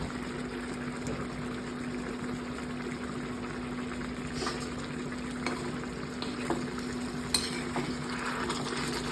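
Curry leaves hitting a pan of simmering Kerala-style egg curry produce a steady bubbling sizzle with a few brief crackles and pops, close and continuous, with no talking.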